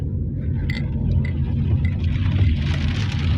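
Rain falls steadily in a dense forest along a winding mountain road, heard near a car as a loud, even patter mixed with low rumble and scattered drops.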